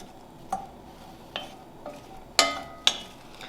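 A wooden spoon knocks against a pot while tomato soup is stirred, five separate close clacks spaced irregularly, the last two the sharpest, with no talking.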